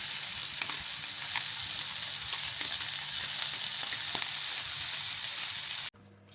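Sausage rashers fry in a pan with a steady, bright sizzle and crackle, heard close up and alone before cutting off abruptly near the end.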